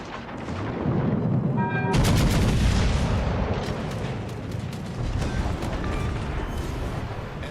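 Naval guns firing in World of Warships crash out in heavy, rolling salvos, loud booms and crackling blasts layered densely for several seconds, with a battle din that stays loud throughout and no talk over it.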